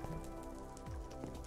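Rain falls in the video game Minecraft, a steady even hiss of drops over a faint low hum, quiet and continuous throughout with no one speaking.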